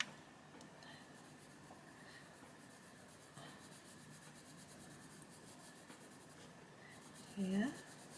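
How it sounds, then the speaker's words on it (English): A cool grey colouring pencil shading stripes on paper, a quiet continuous scratchy rubbing, close and faint, ending in a brief louder knock. "So I'm going to use the cool grey for every other stripe."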